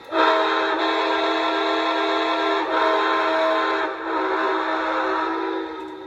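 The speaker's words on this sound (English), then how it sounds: "Here's the whistle on that model." A loud, sustained multi-tone whistle from a scale model Berkshire steam locomotive blowing close up, sounding in long blasts with brief dips between them.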